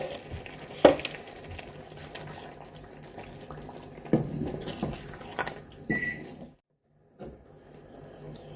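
Masala for malai masala kababs frying in a pan, a soft steady sizzle with bursts of stirring and scraping, briefly going quiet near the end, with no one talking.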